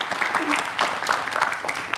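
Scattered clapping from a small group in a talk-show studio during an Indonesian political discussion, uneven and fairly close, mixed with murmured voices.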